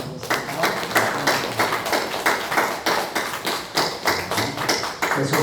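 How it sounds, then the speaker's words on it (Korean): Church congregation clapping in unison to encourage missionaries, loud rhythmic claps in a steady pulse at about two per second, close and continuous throughout. "이 시간 우리 격려의 응원의 박수를 한번 드리겠습니다."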